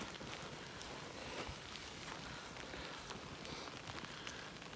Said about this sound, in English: But it's a warm rain, relatively